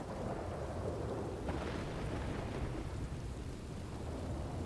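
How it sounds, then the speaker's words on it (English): Steady heavy rain of a thunderstorm fills the scene, with a low thunder rumble rolling underneath throughout. "Hell of a storm, right?"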